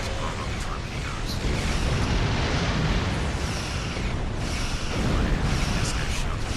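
Rumbling torpedo explosions during a space battle in the game Stranded in Space, a continuous roar of booms with a speaking voice heard over the blasts throughout.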